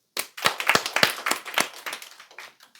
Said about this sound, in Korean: 자, 오늘 인수빈 학생 생일이에요. 박수.